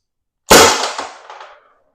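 A Byrna HD/SD/EP/LE less-lethal launcher fires one sharp, loud shot that starts abruptly and rings out with a quickly fading, metallic tail, heard alone and close by, with no talking.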